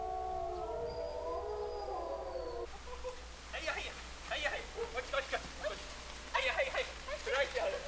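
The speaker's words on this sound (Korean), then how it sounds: "농장의 하루는 늑대들의 울음소리로 시작된다" Wolves on a farm near Shibecha, Hokkaido, let out a layered chorus of long morning howls. After a few seconds the howling gives way to scattered softer rustling and movement sounds.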